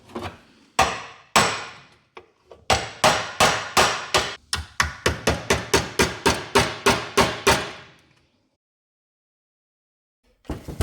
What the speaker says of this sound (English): We've got ourselves a big 1 and 13/16 socket that fits right there, and we're just going to love tap this in.